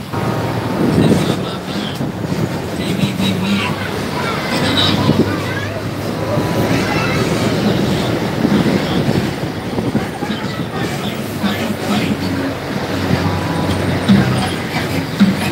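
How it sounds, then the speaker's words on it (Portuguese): A Brazilian party train truck (carreta trem balada) rolls past with a loud, continuous rumble and rattling clatter, mixed with wind and crowd noise, while people talk over it. "Olha galera, ó, carreta trem balada"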